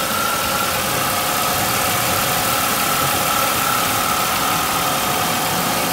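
A 1998 Chevrolet Monte Carlo engine idles steadily and evenly throughout, a continuous close hum with a faint whine running over it and no talking.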